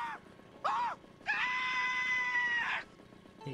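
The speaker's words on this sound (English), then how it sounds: "Let me play my Homer scream." A Homer Simpson scream sound clip plays during a Mario Kart 8 Deluxe session: three loud, strained yelling bursts, two short ones and then a long sustained wail, over a quiet background.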